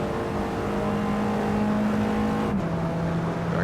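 An Alfa Romeo 4C engine in the Assetto Corsa racing game drones at steady high revs through the Lesmo corners, then dips sharply with a quick gear change.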